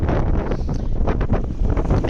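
Loud wind buffets the microphone on a boat while fishing, a constant rumbling roar with gusty swells and no talk.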